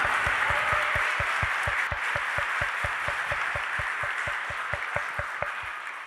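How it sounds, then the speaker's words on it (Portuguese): A church congregation claps in unison, a steady rhythmic beat of many hands at an even pace that fades slightly toward the end, with a faint murmur behind it. "Dê uma salva de palmas para ele, porque ele cuida bem."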